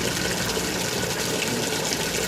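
Water gushes steadily from a water truck parked on a city street for public filling, a continuous close pouring and splashing with no talk.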